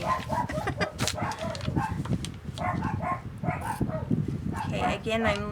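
Several dogs bark and yip off and on, moderately close, overlapping with a person talking throughout.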